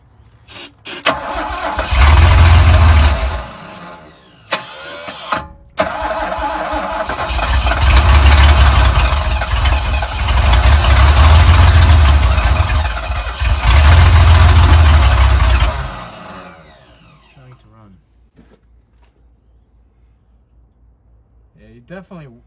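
A Mercedes W116 280SE that sat seven years in a US desert cranks and catches, its engine running loud and rough in surging bursts before cutting out to near silence, with people talking nearby.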